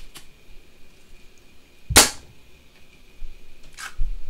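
A Nerf blaster fires a Mega dart through a chronograph, giving one sharp, bright pop near the middle, with fainter clicks before and after.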